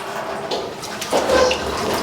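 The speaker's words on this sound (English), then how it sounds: "I'll just use some water from here." Tap water runs steadily for a surgeon's antiseptic hand wash before eye surgery, a continuous close splashing stream that swells slightly louder midway, with no talking.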